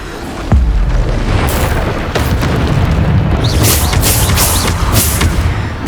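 A Bombarda spell blasts in Hogwarts Legacy combat: a heavy booming explosion lands early and rolls into a sustained roar, with further bursts and crackling magical effects layered over the continuing fight.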